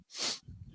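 A single close sneeze, a sharp breathy burst lasting under half a second, followed at once by low murmuring voices and movement.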